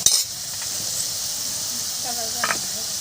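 Onion, ginger, cumin and garlic pastes hit a pan of fried potatoes for a fig curry. A sharp burst of sizzle opens it, then a steady hiss of frying continues with a few faint stirring clicks.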